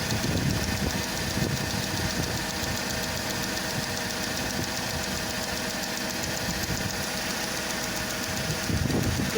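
A Mercedes-Benz CLK 230 Kompressor with the M111 engine idling lumpily, a steady close mechanical hum with a fast, regular ticking click running through it.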